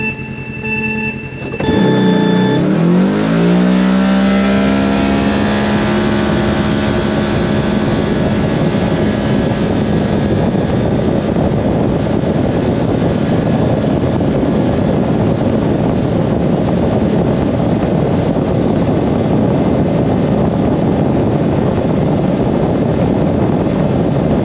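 A Kawasaki KRX 1000 side-by-side with a Badass belt, 35-inch tires, a DynoJet tune and JBS clutch weights revs up hard from a standstill, its engine whine climbing quickly and then holding a loud, steady drone at speed.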